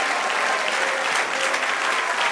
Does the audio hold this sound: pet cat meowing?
no